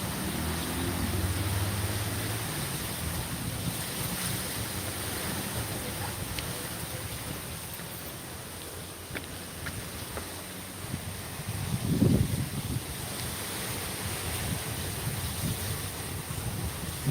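Strong wind and waves at the sea during a storm, with coconut palms nearby: a steady, dense roar of gusts and surf with wind buffeting the microphone, a louder rush around the middle, no talking.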